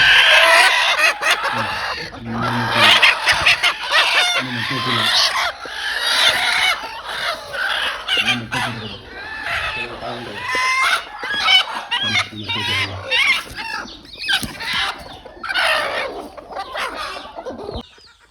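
Native country chickens on a farm cluck and call close by, with repeated crowing bursts and layered hen chatter, loud and busy throughout, while a person speaks at times.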